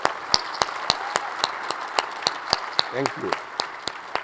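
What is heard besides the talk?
audience applause at conference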